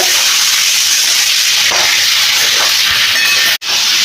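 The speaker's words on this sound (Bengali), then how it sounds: "আলু আর ওল কচুটা দিয়ে দিচ্ছি। এটাকে আমি একটু ভেজে নেব।" Potatoes and elephant foot yam fry in hot oil with a steady, close hiss and sizzle, a few faint stirring scrapes, and a brief cut near the end.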